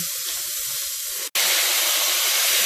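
Spam and chicken frying in a pan give a loud, steady sizzle and hiss, broken by a brief drop to near silence about halfway through before the sizzling resumes even louder.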